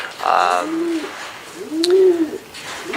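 Racing pigeons coo in a breeding loft, two soft, rounded rolling coos a second or so apart, close and clear, with a brief bird call and light rustling between them.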